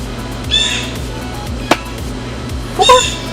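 Two separate caws from crow-like birds sound outdoors at moderate distance, with a sharp knock between them. A low, steady hum runs underneath.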